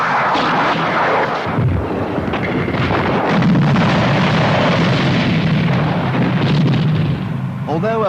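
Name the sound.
artillery and rocket launcher barrage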